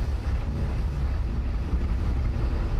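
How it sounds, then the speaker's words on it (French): A submarine's engines come back to life as it surfaces, giving a steady, dense low rumble with a windy hiss that holds constant throughout, with no voices. "Les moteurs reprennent vie."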